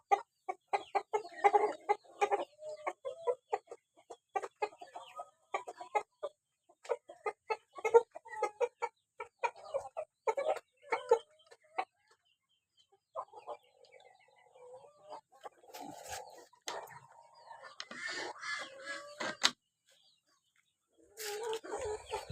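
Backyard flock of Brahma and tiger breed hens clucking in steady bursts of short calls, fairly close, with a louder mixed squawk near the end and brief quiet gaps.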